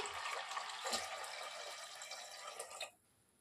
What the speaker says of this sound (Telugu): ఇప్పుడు తగినంత వాటర్ పోసేసుకొని మనం వీటిని బాయిల్ చేసేసుకుందాము